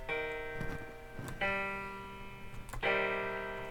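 Three minor chords played on a keyboard instrument, each struck cleanly and left to ring with sustained stacked tones before the next begins, no talking.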